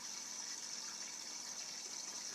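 Water streams steadily into a Berkey gravity water purifier as it fills toward the top, a continuous close-up hissing gush with no voices.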